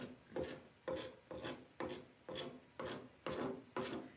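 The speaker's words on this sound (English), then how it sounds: "right now I'm just using the putty knife to take and spread out the golden ticket just a little bit" A putty knife scrapes and spreads paint in a series of eight evenly spaced rasping strokes, each a short, close, quiet swipe with no talk over them.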